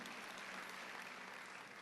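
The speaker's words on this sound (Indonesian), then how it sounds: "Berikan tepuk tangan untuk dia" Church congregation applauding during a Sunday service, a faint, steady, distant patter of clapping throughout the short stretch.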